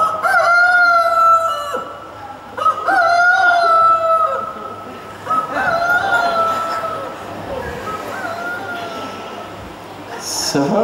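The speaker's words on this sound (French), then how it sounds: "Au chant du coq, vous vous réveillez maintenant." Several rooster crows ring out in succession, fairly close and clear, at a French hypnosis show, with people talking quietly between them.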